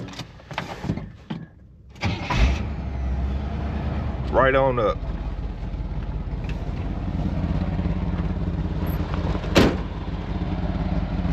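A Chevy square body truck engine cranks and catches after talk, then settles into a loud, steady rumbling idle through a loose, holed exhaust, with someone speaking briefly over it.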